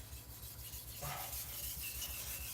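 A knife is rubbed on a sharpening stone in quiet, steady rasping strokes, faint and close, with a low hum underneath.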